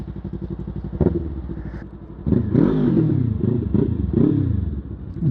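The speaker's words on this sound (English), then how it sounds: "that's why I like loud exhausts" A Yamaha R3 motorcycle fitted with a Coffman's slip-on exhaust revs up loudly, a steady idle burble broken by a sharp blip, then repeated rising and falling throttle pulls close by with no talk.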